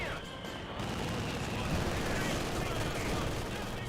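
Mortar strikes and MG42 machine gun fire rattle through a Company of Heroes 2 battle, forming a loud, steady wash of overlapping shots and blasts that runs without pause.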